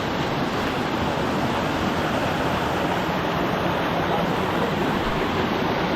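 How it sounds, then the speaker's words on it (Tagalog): Heavy rain pours steadily near a tomato garden, a dense, loud, unbroken hiss with no gaps and no voices. "Lakas naman ng ulan na eh."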